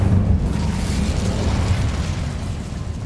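Incendio fire spell in Hogwarts Legacy, a deep rumbling whoosh of flame that is loudest at the start and then roars on steadily before slowly easing.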